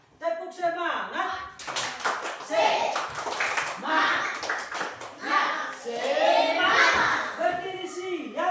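A class of children claps a patterned rhythm together, bursts of claps interleaved with chanted group voices throughout, fairly close and lively.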